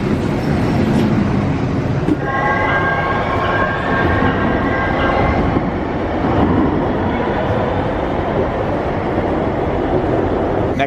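Minneapolis light rail train running along its track, a loud continuous rumble with rattling wheel noise and a sustained high whine through the middle, heard from on board, with no speech.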